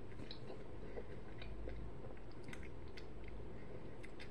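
Close, wet mouth noises of someone chewing a panini, with soft squishing and small crunchy bites repeating steadily over a low background rumble, no talking.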